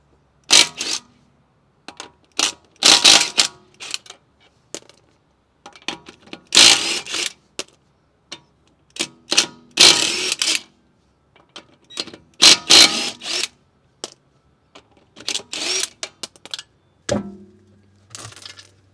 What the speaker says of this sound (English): Next thing you need is a 17mm socket to remove your wheel bolts.